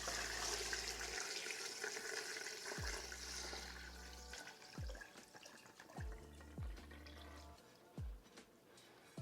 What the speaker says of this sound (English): I have some water that's cold